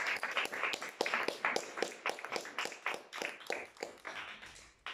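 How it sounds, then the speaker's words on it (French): Audience claps after a theatre company's reading in a municipal library, a soft, fairly sparse patter of hands continuing steadily without voices. "Merci beaucoup, donc vous applaudissez aussi."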